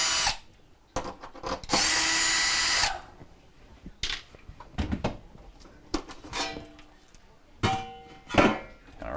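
A power drill backs out the cover screws on the rear of a GE refrigerator, with several short whirring bursts, one long high spin, and clicks and clatter of parts being handled between runs.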